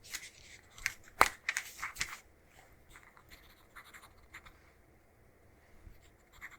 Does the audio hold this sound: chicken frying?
no